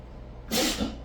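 A single short, breathy burst like a sneeze, sudden and close, over faint background noise.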